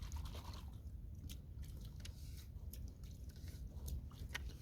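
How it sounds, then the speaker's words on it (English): Water rinsing over a shotgun forend, soft wet splashing and dripping with scattered small clicks over a low rumbling background, faint and close. "Now we'll just do a rinse off"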